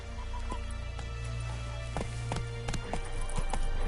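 Hooves of Roach, a horse in The Witcher 3 video game, clip-clopping in a steady, fairly quick rhythm close by over a continuous low rumble, with no talking.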